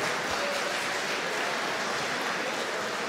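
Arena crowd at an MMA event applauding after a submission finish, a steady, fairly faint wash of clapping and crowd noise heard from a distance.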